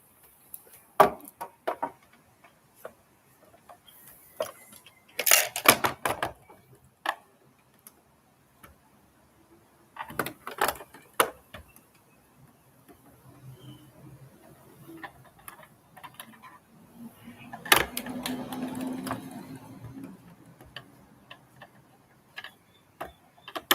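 Loose part rattling inside a toy blaster as it is handled. Sparse, irregular ticks and short clattering bursts come and go over quiet gaps, close by, with no voices.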